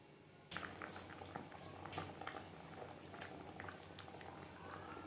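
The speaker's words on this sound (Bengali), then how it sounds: "ফুটে ওঠা পর্যন্ত অপেক্ষা করব।" A pan of rui fish curry with stalks and potatoes bubbles steadily on the stove, a soft, continuous simmer of small pops and gurgles that holds quietly throughout.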